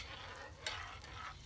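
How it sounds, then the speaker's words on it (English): Tomato sauce boiling in a pot outdoors, African-style cooking, with a spoon stirring through it: faint bubbling and scraping, a brief clatter midway, quiet and close, no talk. "So it's boiling. I just have to mix it a little bit."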